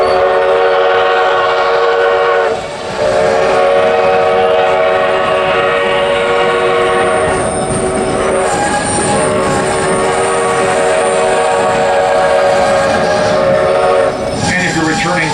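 The 1880 Train heritage train at Hill City, South Dakota, rolls along loud and close while its whistle blows long sustained tones over the clatter and rumble, with a brief break partway through.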